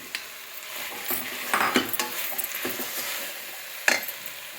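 Potato pieces and vegetables tumble into a pan of tomatoes and meal maker for vegetable biryani, with a soft sizzle and scattered clinks of a spoon against the pan, alone and fairly quiet.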